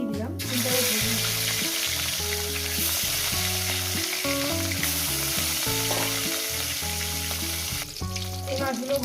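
Rohu fish pieces fry in hot oil with a loud, continuous sizzle and crackle, close up, over a steady stepped musical tune.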